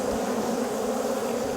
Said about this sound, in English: very unhappy bees.